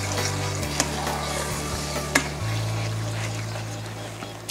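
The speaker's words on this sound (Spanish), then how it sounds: "Así que lo que vamos a hacer a continuación es añadir la nata. Bueno, mezclaremos suavemente." Cream being gently stirred into a mushroom pasta sauce in a pan, producing a continuous soft sizzle and bubbling with a few faint utensil clicks over a steady low hum, no voices.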